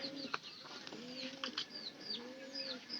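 A found pigeon gives soft, low repeated coos near at hand, with small chirps and faint rustles between them in a quiet setting.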